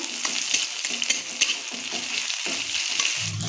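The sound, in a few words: frying bay leaf and chopped ginger in oil and ghee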